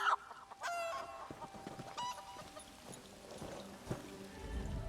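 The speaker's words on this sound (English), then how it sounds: "let's get you two back to your regular chicken selves" Chickens clucking in The Elder Scrolls Online, scattered bursts of clucks and squawks over a few seconds against a busy game background, moderately close and without speech.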